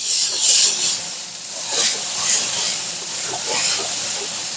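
Butter and pearl onions sizzle in a pan over lowered heat for beef bourguignon, a close, steady hiss with soft crackles and gentle swells in loudness, heard without talking.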